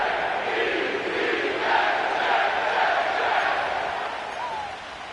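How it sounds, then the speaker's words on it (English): Steady roar of a stadium crowd cheering in an EA Sports NFL football video game, a dense sustained wash of voices with a gentle swell in the middle and no distinct words. "The crowd is definitely ready."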